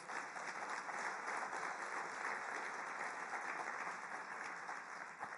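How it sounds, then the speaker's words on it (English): A large hall applauds at a UN farewell statement, steady distant clapping from many hands that holds at an even level throughout. "Big applause."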